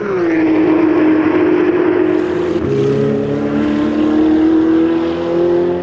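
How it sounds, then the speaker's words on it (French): A Porsche race car pulls away from the pit stop at a circuit, its loud engine revving close by in a rising, steady drone with a gear change partway through. "Carl Van de Vostien repart avec sa Porsche numéro 35"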